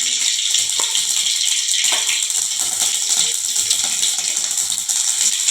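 Mustard seeds crackle in hot oil in a pan, the base for a lentil-water rasam: a steady, close, bright sizzle with scattered pops throughout, no voices.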